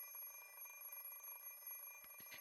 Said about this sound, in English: The alarm clock is deaf to my complaints.